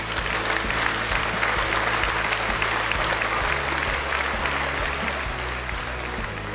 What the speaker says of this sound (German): Dafür denke ich einen ganz großen Applaus